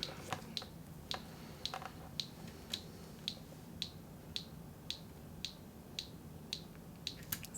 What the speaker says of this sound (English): It's clicking at me.